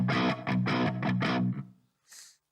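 An electric guitar plays through a Crunch America distortion amp model, giving a handful of loud, rhythmic crunchy chord stabs. They ring out, then trail off into a short, faint scratchy tail.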